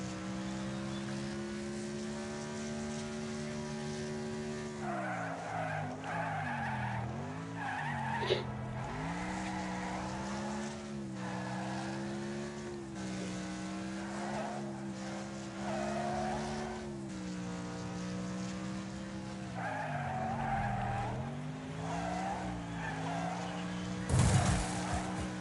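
A race car in the Wreckfest racing game drones with a steady engine tone that rises and dips, with tire squeals and skidding scrapes mixed in throughout, moderately loud and without talk.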